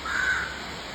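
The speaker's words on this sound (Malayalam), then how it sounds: "കാക്ക" A single crow caw, a drawn-out harsh call rising over faint outdoor background noise, fairly close.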